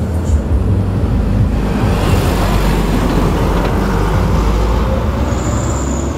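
Heavy oil tanker trucks rumble past on a road in Banyuasin, a loud continuous roar of engines and tires close by, with no talking.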